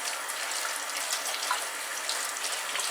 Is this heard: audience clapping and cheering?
no